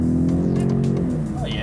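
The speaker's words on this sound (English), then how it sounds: "So you definitely feel that V6 engine and that EcoBoost kick in when you floor it." A Ford F-150 Raptor's V6 EcoBoost engine accelerates under a floored throttle, heard from inside as a steady loud engine hum with a voice faintly over it.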